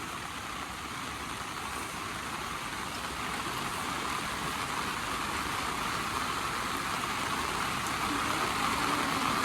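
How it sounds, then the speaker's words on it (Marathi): Heavy rain pours over rice paddy fields during planting, a constant, full roar of water that swells slightly louder toward the end, with no talking. "एवढं जोरात पाऊस पडायला लागला"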